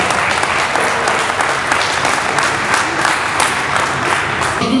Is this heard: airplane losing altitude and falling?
no